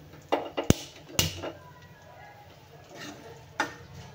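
Tadka tempering with curry leaves for mango dal, spoon clinks and taps on the pan with a soft sizzle beneath, a few sharp knocks then quieter frying, fairly close.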